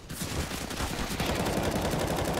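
Pistol exchange in Counter-Strike: Global Offensive on Cobblestone, including CZ pistols, a rapid burst of sharp overlapping shots packed densely together, loud and continuous for a couple of seconds.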